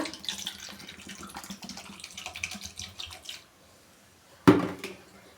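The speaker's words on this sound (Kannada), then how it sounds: "ಸ್ವಲ್ಪ ನೀರು ಹಾಕ್ಕೊಳ್ಳೋಣ" Water poured into a pan holding jamun fruit in a kitchen, a soft splashing trickle for about three seconds, then a brief pause and a sharp clatter from the pan near the end.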